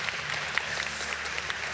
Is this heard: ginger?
no